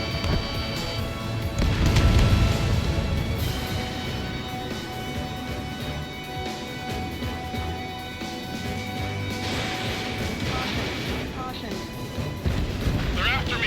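Missiles strike in an Ace Combat 7 air battle, a heavy crash and blast swelling early, then continuous rumbling explosions and combat noise under radio chatter from pilots.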